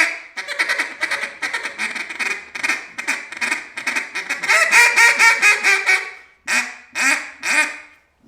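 Rapid quacking bursts blown on a duck call mimic the chattering feeding call of mallards, running in a fast steady cadence, then broken into a few separate loud phrases near the end.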